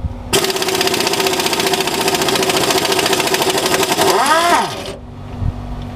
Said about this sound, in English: The compressor's got to recharge.